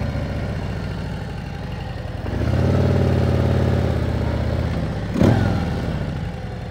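A motorcycle engine idles steadily, then revs up loudly and holds a high, even drone for a couple of seconds before dropping back, followed by a short sharp burst as it shifts toward second gear.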